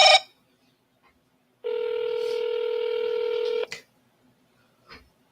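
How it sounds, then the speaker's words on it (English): A telephone being dialed to call back a seller: a short beep, then a steady two-second touch-tone, then brief faint clicks in an otherwise quiet room. "now call the guy back"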